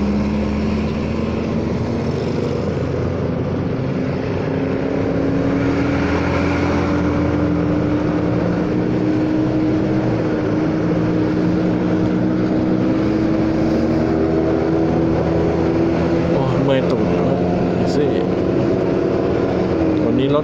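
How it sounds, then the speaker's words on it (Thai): Honda Forza 300 scooter ridden at over half throttle, a steady engine drone with rising pitch and constant wind rush, heard from the rider's position. "บิดเกินครึ่งคันเร่งนะนี่"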